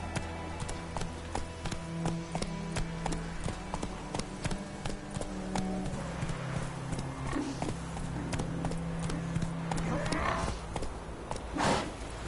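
Hooves of a horse clip-clop in The Witcher 3 video game over game music and background ambience. The steps beat at a steady, fairly close rhythm, and a voice speaks briefly over them.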